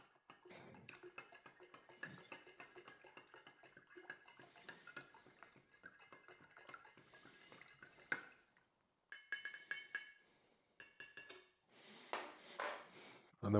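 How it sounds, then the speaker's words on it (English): A spoon stirring ginger syrup, quiet rapid clinking and scraping against a container for several seconds, then a few louder separate clatters of cutlery and dishes. "we'll give it a bit of a judicious stir"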